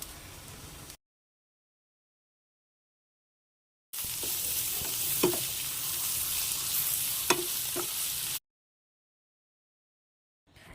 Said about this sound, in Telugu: దొండకాయలు వేసాక హై ఫ్లేమ్లో పెట్టి 5 నిమిషాలు వేయించుకుంటూ ఉండాలి.